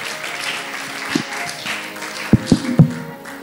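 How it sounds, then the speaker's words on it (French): A few scattered claps and taps at a Bible school graduation ceremony stand out over a low murmur of background noise, brief and uneven rather than a sustained round of applause. "On applaudit pour notre sœur."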